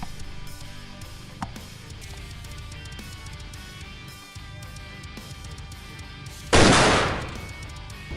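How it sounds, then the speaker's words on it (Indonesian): A single sharp gunshot bursts out late, loud and sudden with a decaying tail, over quiet dramatic film music from a scene in The Prestige. "Tiba-tiba, dia ditembak seseorang."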